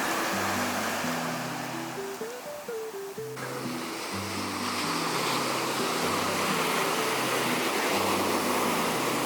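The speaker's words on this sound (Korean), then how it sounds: "파도 소리가 정말 기분 좋지 않나요?" Surf rolls and washes continuously onto Albufeira beach in Portugal, a broad steady roar, while a gentle melody plays softly throughout.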